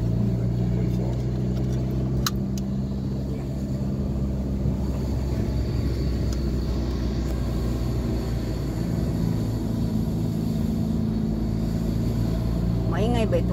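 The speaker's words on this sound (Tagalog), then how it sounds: "Maingay ba itong sasakyan na to" The inside of a moving car fills with a steady engine drone and low road rumble that runs continuously throughout, with faint voices in the background.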